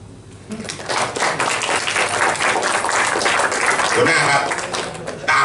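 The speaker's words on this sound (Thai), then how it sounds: "ใครทำได้ปรบมือดังๆครับ" Audience applause at a Thai workplace seminar, a dense, loud wash of clapping that swells after the first half second and holds steady to the end, with talk mixed in underneath.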